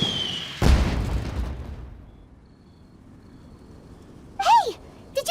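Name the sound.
explosion in the video game Genshin Impact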